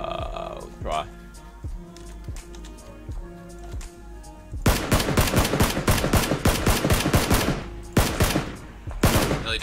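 Bursts of rapid gunfire from the PUBG video game, first scattered thin shots, then dense loud volleys of automatic fire that stop and restart near the end, with players talking over the action.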